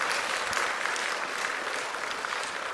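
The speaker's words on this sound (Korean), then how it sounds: "우리 도 새벽에 나온 우리 격려하면서 서로 격려하면서 우리 박수 한번 하실까요?" A church congregation at a dawn prayer service claps together, a dense, continuous round of applause filling the room at steady loudness throughout.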